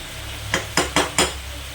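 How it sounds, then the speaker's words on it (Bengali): Vegetable curry sautéing in a pan, with a faint steady sizzle and four quick, close scraping strokes of a spatula in rapid succession. "এটা আমি আরও 5 মিনিট কষিয়ে নেব"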